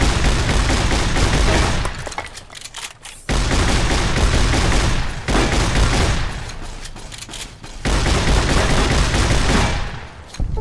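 Riot shotgun fire in Fallout New Vegas, in the Old World Blues X-13 Research Facility, comes in loud, rapid sustained bursts of several seconds each, separated by brief pauses, dense and close with no talk.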